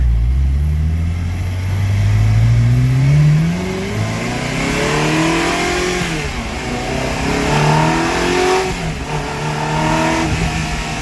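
A salvaged Ferrari with a recently fixed thermostat drives along, its engine revving up through rising pitches and shifting gears, loud and close from inside the car with no talk.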